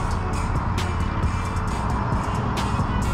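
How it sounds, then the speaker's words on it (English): A car drives past on a road, a loud steady roar of engine and tyre noise close by, with a few sharp ticks and clicks breaking through the rumble. "Car coming."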